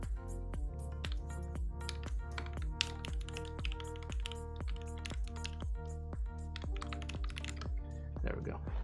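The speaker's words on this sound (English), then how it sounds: "You know how hard it is to like pull out a 4-kilo keyboard to type one sentence?" Rapid, steady typing on a heavy 4-kilo mechanical keyboard from a Savage 65 build, a continuous string of deep, thocky keystrokes close up, with a voice speaking faintly underneath.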